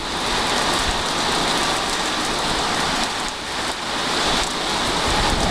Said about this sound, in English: I looked out the bathroom window and could see it was beginning to rain.